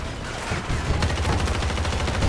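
An M16A3 rifle firing in Battlefield 2042, a rapid, loud burst of close gunfire with dense, rattling reports that thicken after a brief opening.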